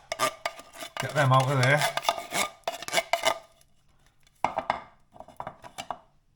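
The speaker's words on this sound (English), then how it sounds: "We've just got to pull the ring pulls on these ones." Ring pulls on Heinz baked bean tins are worked open amid metallic scraping, clinks and rattling handling noises, with a short spoken phrase and more tin clatter following.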